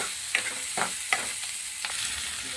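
Onions fry in a pan with a soft, steady sizzle, and a few sharp stirring scrapes and taps come roughly every half second; close, moderately quiet, with no voices.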